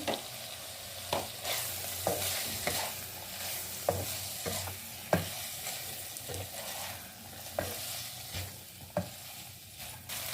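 Boiled macaroni with green chilies is stirred in a pan for a fried momo stuffing. A soft fry sizzle sits under repeated scraping spoon strokes that land as sharp clacks every second or so, with no voices.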